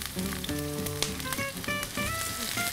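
Garlic cloves and a whole onion sizzle in a little oil, a close crackling hiss running under faint tonal background sounds, steady throughout the short stretch.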